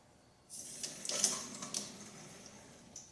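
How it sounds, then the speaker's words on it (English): Water sprays and hisses from a leaking connector on an electric Atmor Thermopro tankless water heater, a faint, fluctuating spray that starts suddenly and then tapers off, with no talk. "That thing's leaking right there."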